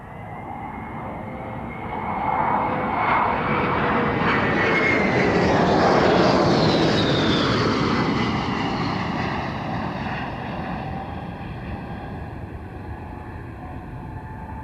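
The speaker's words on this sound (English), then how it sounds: "a VC-10 KC-3 tanker with 2 hose and drogue systems, a VC-10 C-1K transport aircraft modified with a single hose and drogue, and they were led by a TriStar KC-1" A flypast of VC-10 KC-3 and VC-10 C-1K tankers led by a TriStar KC-1 at the 1993 International Air Tattoo: a loud jet engine roar swells, peaks overhead and slowly fades, with a whining tone sweeping down as the aircraft pass.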